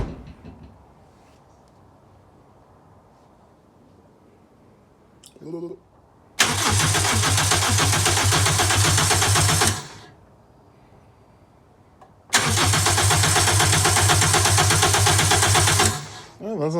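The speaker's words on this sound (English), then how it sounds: "he's going to go ahead and crank it a couple of times, build up oil pressure" A Toyota 2ZZ engine swapped into a Celica GT, making it a GT-S, cranks loudly and close up in two sustained bursts of about three to four seconds each, separated by a quiet pause. Voices talk quietly beforehand.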